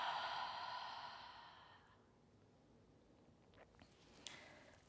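A long, soft exhale during a yoga breathing exercise, fading slowly into quiet room tone with a few faint small noises afterward.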